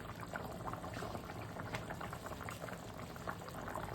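Rohu fish curry with potato, papaya, pointed gourd and ridge gourd, tempered with onion and cumin, simmering in a pot: a steady, dense bubbling that stays loud and even throughout, with no talking.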